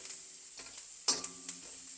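Onion and bitter gourd frying together in a pan for a bitter gourd stir-fry, a soft steady sizzle broken by a few sharp clicks of a spoon against the pan near the middle and end.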